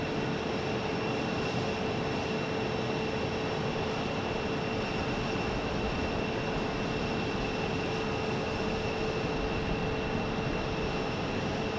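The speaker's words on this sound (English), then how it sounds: "Nice, easy landing." Airliner landing at Phoenix Sky Harbor airport, a steady, distant engine roar with broadband rushing noise and faint tonal whine holding evenly throughout.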